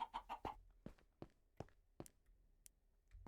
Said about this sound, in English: Bunch of chickens.